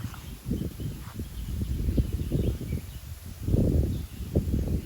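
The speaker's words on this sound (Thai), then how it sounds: "ลมพัดแรงมากทุกคนใช่ไหม" Strong wind gusts through a bamboo forest, roaring in loud, rolling surges with rustling leaves, close and steady with no voices.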